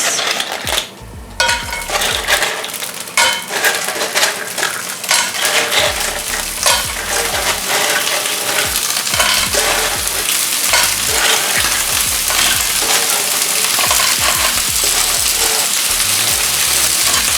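Clams land in hot oil with garlic and bay leaf, setting off a loud, crackling sizzle close by, with shell clatter and pan scrapes running through the steady hiss.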